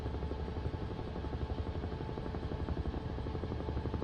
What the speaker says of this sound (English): We are in the Huey helicopter